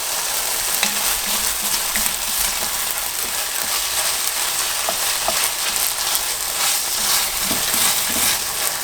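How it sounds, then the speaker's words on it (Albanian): A pot of Shkodra-style rice stew with fresh lemon juice being stirred, a steady sizzling simmer with soft scraping spoon strokes throughout, close and continuous with no talking. "Edhe ja shtojmë langun e limonit. Vazhdojmë përzim."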